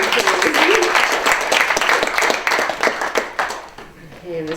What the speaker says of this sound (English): If it were up to me, I would applause after each panelist speaks.